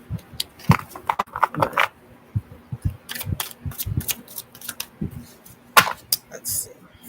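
Cards are shuffled close up during a psychic reading, giving irregular bursts of sharp riffling clatters and soft taps with brief pauses between them.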